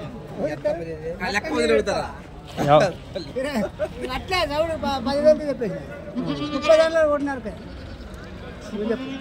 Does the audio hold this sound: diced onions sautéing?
no